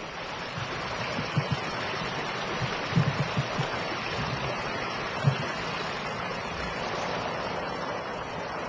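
A mountain stream winding down a valley toward a hermitage rushes steadily, a broad continuous wash of flowing water with a few faint knocks, heard alone and without talk.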